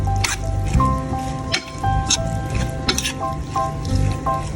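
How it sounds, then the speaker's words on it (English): Wet, squishy mixing of pepper, salt, oregano and sesame oil seasoning for steamed tilapia, heard as irregular close squelches and drips over a few seconds. "Mix well all the ingredients."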